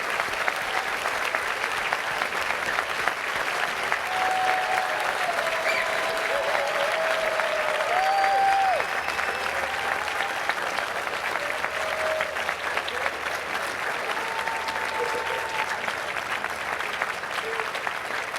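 A tented prize day ceremony crowd applauds the class of 2021 with sustained, even clapping that lasts the whole stretch, dense and steady from many hands, with faint voices and a brief whistle-like tone mixed in.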